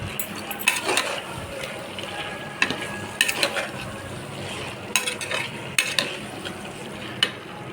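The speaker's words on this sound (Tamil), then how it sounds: "சிக்கன் போட்டுக்கலாம் சிக்கன் நல்லா வதங்கட்டும்" Chicken pieces sautéing in a pan with tomato and onion for a chicken curry, a steady close sizzle broken by clinks and scrapes of a spoon stirring against the pan.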